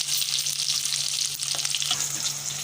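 Small onions sizzle steadily in hot oil in a pan for a fish kulambu, a dense continuous frying hiss with a few stirring scrapes, close and fairly loud with no talk.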